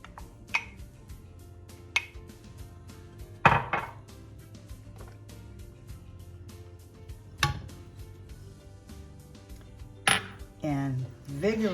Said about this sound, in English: I will stir this until it comes out to be a thick paste.